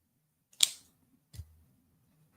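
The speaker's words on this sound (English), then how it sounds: "and then I will trim off the excess." Wire cutters snip through excess jewelry wire while a beading kit piece is assembled: one sharp, bright snip followed by a softer, duller clip about a second later, close and alone against a quiet background.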